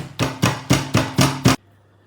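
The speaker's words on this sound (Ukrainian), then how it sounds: "накриваємо харчовою плівкою, ну і відбиваємо. От в мене такий молоточок є спеціальний." A meat mallet pounds a chicken fillet covered in plastic wrap on a board in a home kitchen, six evenly spaced thuds landing close and firm, then stopping.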